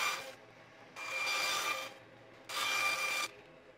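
Vulcanized fiber and micarta spacer pieces are being cut for knife handle scales, making two sustained rasping, grinding passes of about a second each with a short break between, steady and close with no voices.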